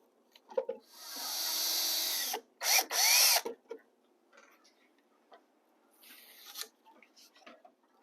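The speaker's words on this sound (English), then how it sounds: "that shows me exactly where I need to drill my holes" A power drill bores mounting holes for model railway lighting and accessories, running in one sustained whirring burst and then two short rapid bursts, followed by quieter clicks, handling noises and a brief faint whir.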